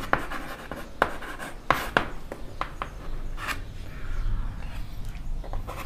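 A pen writes a math fraction by hand on paper, a quiet series of sharp scratchy strokes and taps in irregular bursts, close up, with no talking.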